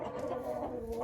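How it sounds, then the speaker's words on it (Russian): Marans chickens, a rooster with his hens, clucking close by in a steady, busy chorus that fills the whole brief moment. "На одного петуха Марана 5 курочек."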